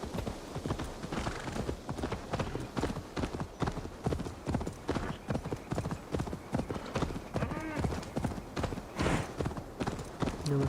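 Fast rhythmic hoofbeats of a horse galloping in Assassin's Creed Valhalla, loud and continuous, with a brief whinny partway through.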